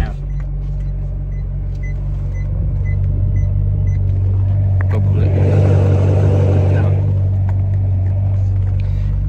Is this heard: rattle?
yes